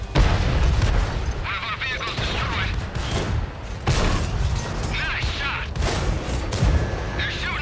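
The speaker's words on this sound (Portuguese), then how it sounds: "Tô levando tiro aqui de traseira, ó." Tank cannon fire and explosions rumble through a World of Tanks battle involving an American T29 tank, heavy booms and bursts repeating every few seconds amid mechanical clatter, loud and close, with someone talking over it.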